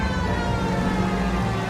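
A police siren in the video game L.A. Noire, steady and loud beneath the roar of a car engine, sustained throughout with no talk.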